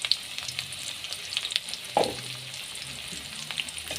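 Onions and chilies sizzle in hot oil with a cardamom pod or two, a steady close frying hiss with a brief louder crackle burst midway and a few light pan clicks.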